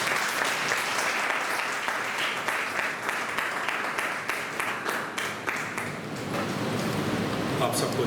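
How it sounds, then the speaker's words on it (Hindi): A church congregation at a Sunday service claps to welcome the preacher, dense sustained applause from many hands that carries on evenly for about eight seconds, fairly close and full. "हम लोग ताली बजा करके प्रभु के दास का और परमेश्वर के वचन का स्वागत करेंगे"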